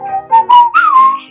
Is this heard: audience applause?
no